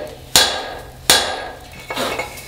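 Hammer blows ring out on hot metal while a clipping hammer is forged: two sharp, bright metallic strikes close together, then a softer third clank, each followed by a brief ringing decay.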